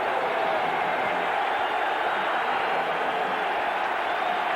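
A record crowd of 96,704 roars steadily at a 1992 Miami versus Penn State college football game, a broad, unbroken wash of stadium cheering held at a constant loud level throughout.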